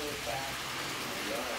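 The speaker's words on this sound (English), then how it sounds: "You see the rain?" Steady rain hisses on a rainy day near an airport, a dense even wash of drops close by, with a voice speaking faintly underneath.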